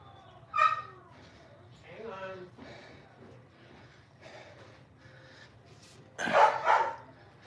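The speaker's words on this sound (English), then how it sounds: "The dog loaf is now barking." A dog barks in short bursts from another room in a home, two loud clusters at the start and near the end, with quieter sounds and a steady low hum of running exercise equipment between them.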